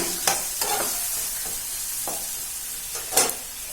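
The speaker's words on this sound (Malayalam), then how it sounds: "സവാള ഒന്ന് ചെറുതായിട്ടൊന്ന് വഴന്നു തന്നെ" Finely chopped onion sautéing in a pan for Kerala-style fish biryani masala, a steady close sizzle broken by a few sharp spatula scrapes and taps.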